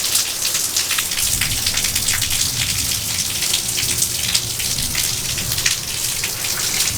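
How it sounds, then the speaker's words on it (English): Heavy rain pouring off a house roof with no gutters and splashing onto the ground, a dense continuous roar of drops, loud and steady throughout with no voices. "So you can see the rain hits the ground and trenches it where it falls off the roof."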